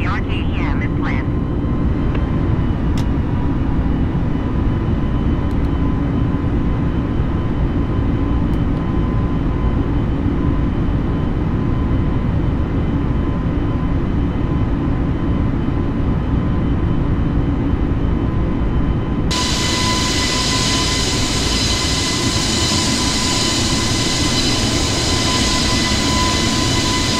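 Steady broadband cabin roar inside a Delta Airlines Airbus climbing out of Denver, a continuous loud engine and airflow drone that brightens in tone near the end.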